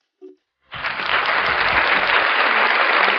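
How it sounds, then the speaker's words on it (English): A talk show audience breaks into applause for an arriving guest, starting abruptly after a short blip and swelling into loud, steady, even clapping that continues to the end. "Please give him a round of applause."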